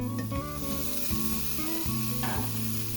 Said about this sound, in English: The brats are gonna take about 10 minutes to cook